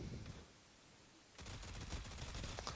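Light machine gun fire in the mobile shooter Critical Ops: after a quiet stretch, a rapid burst of close, rattling shots runs for more than a second, fairly faint overall.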